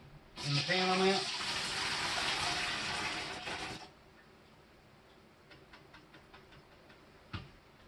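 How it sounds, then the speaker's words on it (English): Homemade tomato sauce for canning pours from a bowl back into a pan in a steady, fairly loud gush lasting about three seconds, followed by quieter faint clinks and a single knock. "Dumping this back in the bowl, in the pan I'm at."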